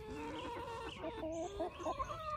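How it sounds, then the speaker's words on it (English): Chickens cluck in a yard in the morning, a few overlapping nasal clucks and short calls close by, with no talking. "Good morning, chickens. Look at you guys out here."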